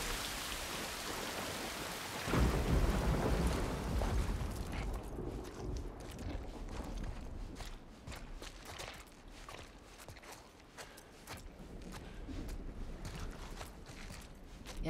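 Steady rain pours outside in The Last of Us game, a dense hiss that drops off after a couple of seconds as if moving under cover, leaving faint drips, creaks and shuffling footsteps under a quieter wash.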